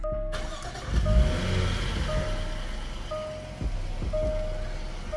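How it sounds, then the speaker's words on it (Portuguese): Jaguar F-PACE SUV engine starting, a short starter crank followed by the engine catching into a low steady idle, with a chime beeping repeatedly in the cabin. "E vamos ligar o carro."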